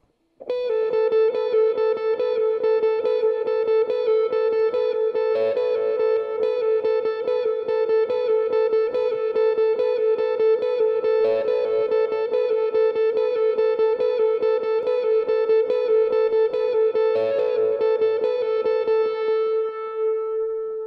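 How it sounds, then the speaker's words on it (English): Electric lead guitar plays the first verse of a song, a sustained, effected tone holding one repeated note pattern with steady pulsing, loud and continuous, occasional accented shifts. "I'm going to go ahead and play through all of verse 1 one time for you"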